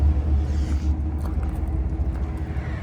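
Low, steady rumble of a lifted 2019 GMC Z71 Texas Edition pickup idling through its exhaust, a deep continuous drone up close with faint lighter noises over it and no talking.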